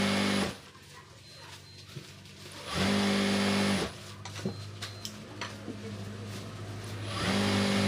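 A sewing machine stitching a nightie runs in three bursts, each a steady close whir that starts and stops between quieter pauses.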